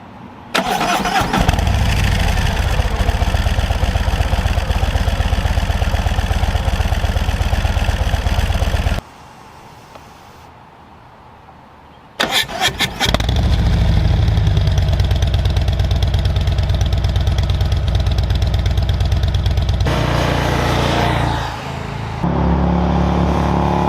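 A Harley-Davidson Road Glide fitted with a Reinhardt exhaust cranks and fires, settling into a loud, loping idle. It falls quiet for a few seconds, then starts again and idles on with deep, uneven pulses.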